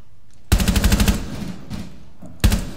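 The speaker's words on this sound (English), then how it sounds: "Oh shit, I almost shot you, Snoop." Gunfire in Rainbow Six Siege: a fast, loud automatic burst of roughly a dozen rapid shots, a short pause, then another sharp shot starting at the end.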